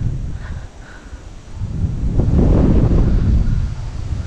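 Strong wind on a hill buffeting the microphone, starting moderate then gusting louder and rougher, with no talking.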